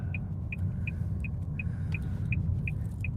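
A car drives along a city road, its engine and tire rumble a steady low drone throughout, with a faint high regular beeping recurring about every third of a second.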